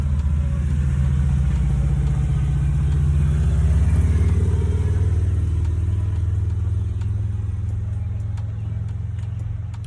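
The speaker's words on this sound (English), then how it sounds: "Let this motorcycle pass." A motorcycle passing by outdoors, a loud low engine rumble that swells toward the middle and slowly fades away.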